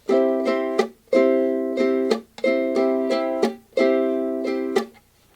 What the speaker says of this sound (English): And now my personal favorite is the chucking pattern.